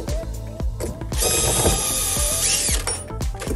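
A power tool whirs steadily for a couple of seconds between ratcheting clicks while it tightens the screw on an Enerpac hydraulic ram return spring tool during a seal kit job. The sound is close and loud, with no talking.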